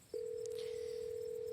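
A steady single-pitch telephone dial tone from a phone call in the video game Scarlet Hollow starts after a brief pause and holds continuously, clear and alone.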